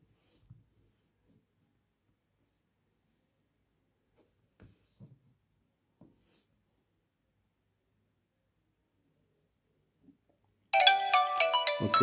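A mobile phone on an incoming call, the handset a Mobicel Blink, rings with a loud, bright melodic tone that starts abruptly near the end after long near-silence broken by a few faint taps.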